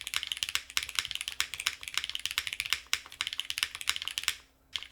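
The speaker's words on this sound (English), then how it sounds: "I want to see a cherry for the spacebar switch here." Steady, fast typing on a custom 1800-layout Athena keyboard fitted with Obscura alpha switches and a Cherry spacebar switch, close-up crisp clacks in a continuous rhythm that stop abruptly near the end.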